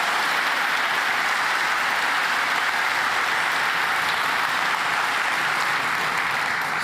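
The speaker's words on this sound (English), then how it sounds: "So big applause for John Drexel." Steady, even applause from a conference audience at a Laravel developer event in Amsterdam, a continuous wash of many hands clapping without pause, with no voices over it.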